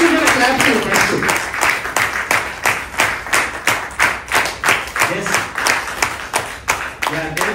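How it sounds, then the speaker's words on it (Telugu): Crowd at a family gathering claps in steady, fairly rhythmic bursts, loud and close, continuing throughout. "పేరు పేరున అందరికీ కూడా క్లాప్స్ అండి"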